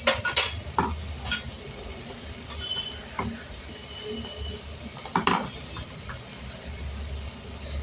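Dill and spinach greens frying in oil in a pan with a steady low sizzle, broken by occasional scrapes and clinks of a spoon stirring against metal.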